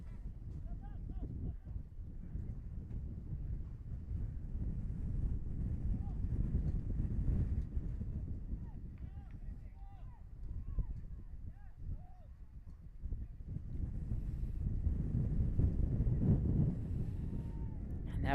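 Steady wind blows across an outdoor soccer field during a boys' high school match, a constant low roar and microphone buffeting that continues throughout, with a commentator talking over it.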